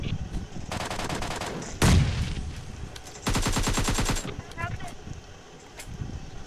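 Automatic rifle bursts in a team deathmatch shooter game, two long rapid strings of shots plus a single heavy blast between them, loud and close, with game noise around.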